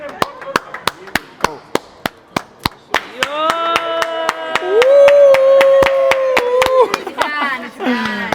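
A group claps hands in celebration with sharp, evenly spaced claps of about two per second. The clapping keeps a steady beat the whole way while voices join in loudly, singing and cheering from the middle onward.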